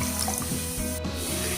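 Half a glass of water pours into a reddish rohu fish curry gravy in a pan, a steady close splashing wash of running liquid with no talking.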